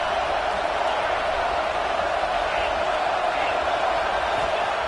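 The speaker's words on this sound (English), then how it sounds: "It's early, but this crowd is fired up. Listen to this noise here." Simulated stadium crowd in the College Football 25 video game, a constant dense roar of noise that stays loud and even throughout, with no talk over it.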